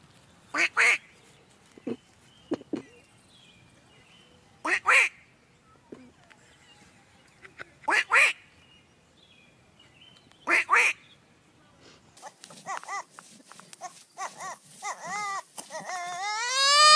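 A duck quacking in loud, close, repeated bursts about every three seconds, followed by a run of rapid, overlapping animal calls toward the end, with some faint talk in the background.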